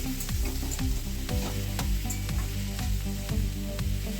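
Ripe cucumber with curry leaves frying in a pan, a loud constant sizzle with repeated scraping stirs of the spatula, close and uninterrupted by talk.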